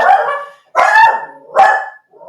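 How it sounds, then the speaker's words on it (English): A dog barks three times close to the microphone, sharp loud yaps spaced about a second apart with short silences between them. "Sorry about the dog."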